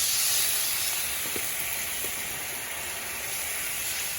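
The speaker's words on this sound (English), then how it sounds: "So I gotta deglaze the pan, right?" A hot pan is deglazed while making veggie beef soup, giving off a broad, steady steamy hiss that starts loudest and slowly eases, with a couple of faint ticks underneath.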